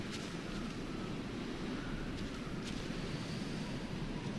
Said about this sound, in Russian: Задул ветер сильный.